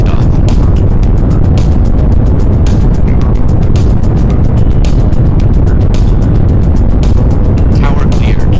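Proton rocket engines roar at liftoff, a loud continuous broadband rumble with crackling bursts that dominates throughout with no break.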